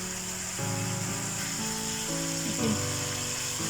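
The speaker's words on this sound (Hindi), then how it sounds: "इसी ड्राई में ये मसाला भी भून जाएगा।" Masala frying with prawns in a pan for butter garlic prawns, a steady close sizzle running throughout with a faint melodic background tone over it.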